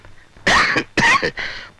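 Three harsh coughs from someone with cough and fever, in quick succession, close and loud, the last one softer and more drawn out.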